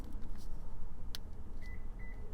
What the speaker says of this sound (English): And it beeped again.